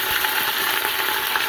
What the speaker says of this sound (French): Une fois que l'huile est chaude, nous allons dorer un petit peu notre viande.